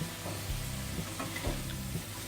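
Spices are stirred into a dry fried potato sabzi (dum aloo fry) in a pan, a steady soft sizzle with a few scraping stir strokes, close and moderately quiet, no talking.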